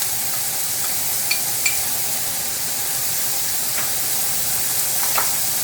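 Sliced garlic, about three large cloves, stirred into a hot pan that was used to sear beef for braised brisket, giving a steady broad sizzle with a few faint scraping clinks from the stirring.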